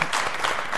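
An audience claps in a hall during a celebration of women's spring holidays, a short, dense burst of applause heard up close.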